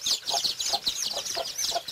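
Two bantam hens sitting on a small nest make quick, rhythmic, close clucking calls, repeated several times a second without pause.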